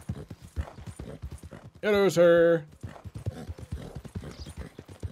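Horse hooves clip-clop steadily in Red Dead Redemption 2, with a short loud horse whinny partway through and someone talking over much of it.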